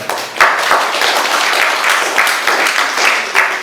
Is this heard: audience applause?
yes